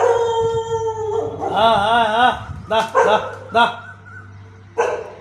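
Dogs howl and bark near a college at night, with a drawn-out wavering howl followed by several sharp barks and yips close by, while a person speaks over them.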